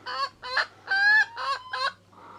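A pet chicken calls noisily up close, five loud honking, squawking bursts in quick succession followed by a softer trailing cluck, no talking.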